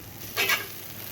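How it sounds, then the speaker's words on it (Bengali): An egg frying in a pan on a stove gives a soft, close sizzle with a brief louder burst of hissing and scraping in the middle before settling back to a low hum. "চুলায় তাওয়া বসিয়ে দিয়েছি ডিম ভাজার জন্য"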